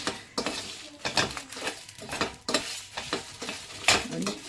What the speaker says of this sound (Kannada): ಈ ರೀತಿ ನಿಧಾನಕ್ಕೆ ಲೋ ಫ್ಲೇಮ್ ಇಟ್ಕೊಂಡೆ ಫ್ರೈ ಮಾಡ್ಕೋಬೇಕು